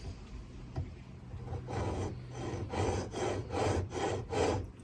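A steel chisel held in a honing gauge is pushed back and forth across a sharpening stone, giving a run of rhythmic gritty rasping strokes that grow steadier and louder, close up with no talking.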